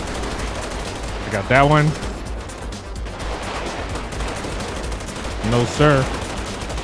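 Full-auto gunfire in the video game GTA 5 during a police SWAT mod shootout, two short loud bursts separated by a few seconds, mixed with game noise while players talk over it.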